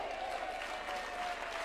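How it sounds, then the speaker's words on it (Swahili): An audience at a political party meeting at State House in Kenya claps, a brief, steady wash of applause from a crowd, somewhat distant and moderate in volume. "Pigeni makofi."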